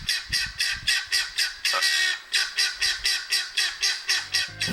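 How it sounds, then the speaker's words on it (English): A guinea fowl's harsh alarm call repeats in a steady, rapid chant of loud rasping squawks, about three per second, close and alone. "they also have an alarm sound that sounds like this"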